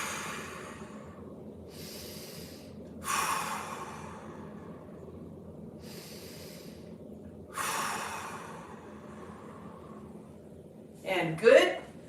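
A person takes three big, deep breaths during a hip mobility stretch, each a soft, airy inhale-exhale rush spaced a few seconds apart, with a brief louder huff near the end.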